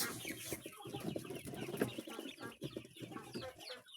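Chicks and chickens on a poultry farm cheep and cluck in a dense, busy chorus of overlapping calls, fairly close and soft in level.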